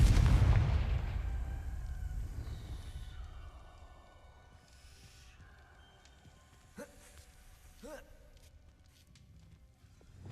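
A Confringo spell blast in Hogwarts Legacy opens with a loud booming explosion that rumbles away over a few seconds, followed by quieter game ambience and two sharp faint impacts near the end.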